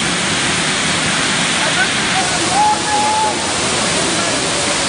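Bangang falls on Mount Bamboutos pour down as a steady, loud broadband roar of falling water that fills the scene evenly throughout, with no voices.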